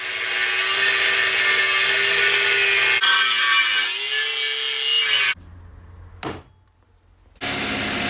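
Metal being cut out in rough shape for a BMW R80 custom motorcycle build, a loud close rasping saw stroke running continuously for several seconds, then a short pause, a brief clunk and the cutting resuming.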